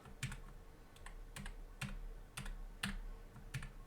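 Keystrokes on a Keychron K5 Max keyboard, a run of sharp, close taps at an uneven typing rhythm with faint room hiss between them, no voices.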